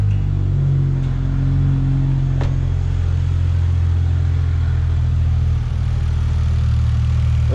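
A Lexus GS300 with a turbo-internals 2JZ-GE inline-six runs just after starting, a steady low engine drone holding throughout at close range, with no talk over it.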